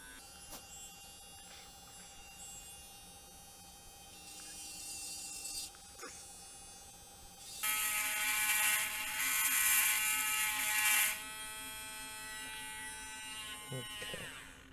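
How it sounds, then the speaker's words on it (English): Steady whirring hum of a lathe-turned workpiece with a metal file edge held against it, rising into a louder, brighter buzzing scrape for a few seconds midway before easing off again. "I'm gonna be using this tool here, this file. And I'll be using just the edge up against it"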